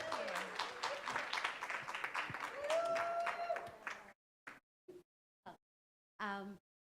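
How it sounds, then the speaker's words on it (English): Applause from an audience at a parent leadership team meeting builds for about four seconds, mixed with talk and murmuring, then stops; a few short isolated sounds and a brief voice follow in near silence. "let's give her a round of applause"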